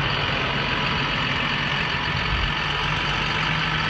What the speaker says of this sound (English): I'm gonna drive around here a little bit just to let you see how it runs and how it drives.